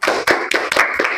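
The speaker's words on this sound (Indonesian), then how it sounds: "Tepuk tangan untuk kita semua." A classroom group applauds together during a Quran recitation lesson on mad badal, a dense burst of many hands clapping close by, with several louder surges over about a second.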